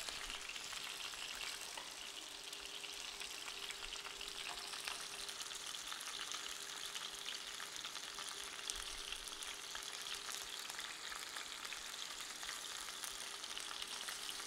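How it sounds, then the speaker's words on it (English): Chicken breasts browning in oil in a saute pan, a steady, even sizzle with fine crackling that holds at a constant level throughout, fairly quiet and with no voices. "Now you want to lightly brown these on each side because the entire cooking process takes place right here, right in the saute pan."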